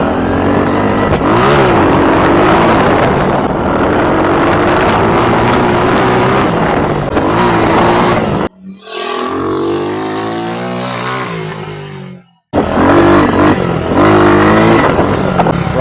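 The 150cc RPS Condor scooter engine with its carburetor re-jetted and running a bit rich revs loudly under the throttle, roaring for a long stretch and then dropping briefly before roaring again.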